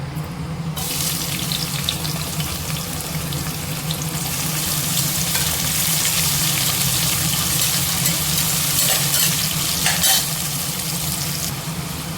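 Chopped onions frying in a pan, a steady, loud hiss and sizzle that carries on without a break and swells slightly midway.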